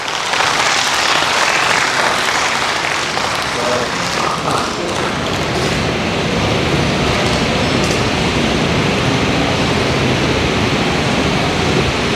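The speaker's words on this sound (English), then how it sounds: "Please give a round of applause for ma'am." Sustained audience applause greets a keynote speaker at an academic conference, a dense, steady wash of clapping that stays loud and even for about twelve seconds with no break.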